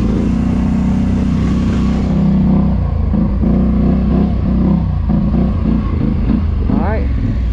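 Can-Am four-wheeler engine running loud and close while driving, a rough continuous drone with clattering and rattles from the machine, shifting in pitch toward the end.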